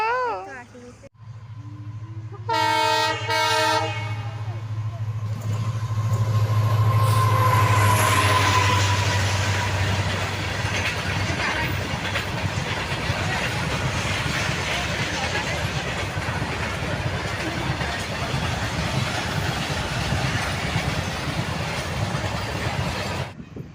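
A train rumbles past close by near a station, a steady loud roar with rattling wheels that carries on for the whole stretch after a brief horn-like tone at the start.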